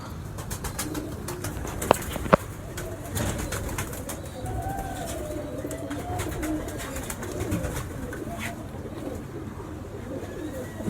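Pigeons, Sialkoti or Kasuri cross birds, coo in soft rolling, wavering calls through a steady background murmur, with two sharp clicks early on and faint voices now and then.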